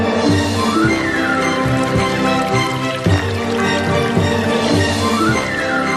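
Water pours steadily in a continuous splashing stream, with a faint liquid trickle layered under a musical background.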